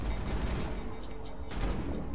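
Weapon fire in the Mass Effect video game, a rifle such as the Avenger, rattles as a dense, continuous burst of shots, loud and close, filling the whole stretch with booming low end.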